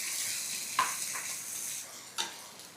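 Tomato tossed into frying onion in a pan keeps up a soft, even sizzle, with two brief clinks of a spoon against the pan, quiet and close, without speech.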